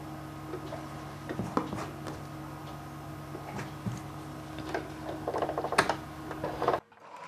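Sewing machine running a seam on a fabric face mask, a quiet steady close hum with small clicking ticks throughout, stopping abruptly near the end.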